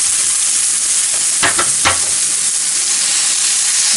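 Portobello mushroom caps sizzle and fry in a pan over medium heat, a loud, steady hiss filling the whole stretch, with a couple of brief sputtering bursts midway as the caps settle.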